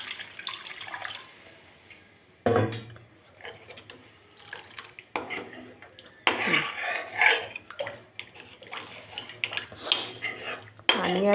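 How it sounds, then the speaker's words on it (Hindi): Water splashing into a pan of ginger curry while it cooks, with intermittent pours, clinks of utensils against cookware and soft background noise over roughly eleven seconds. "थोड़ा सा पानी और ऐड करेंगे"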